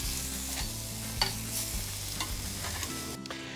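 Steaks sizzle steadily on a hot BBQ grill, a loud, close, continuous frying hiss, while faint scrapes and clicks mark them being turned, with no voices.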